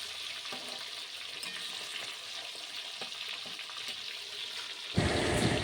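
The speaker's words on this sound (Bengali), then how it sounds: "এদিকে তো মাছগুলো আমি এক এক করে ভেজে নিচ্ছি" Fish pieces fry one by one in hot mustard-style oil in a pan, giving a steady, loud, dense sizzle throughout, with a sharper burst of spitting near the end.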